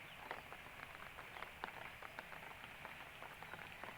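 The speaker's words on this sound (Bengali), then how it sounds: "ওই তো বৃষ্টি হচ্ছে।" Morning rain falls steadily, a faint, even patter of scattered drops tapping on surfaces with no voices.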